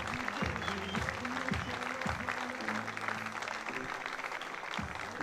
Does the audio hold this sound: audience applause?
yes